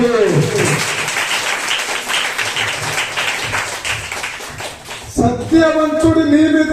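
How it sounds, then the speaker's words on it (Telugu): A church congregation claps along in a steady rhythmic beat for several seconds, fairly loud and close, before a voice rises over the tail of the clapping. "చప్పట్లు కొట్టి"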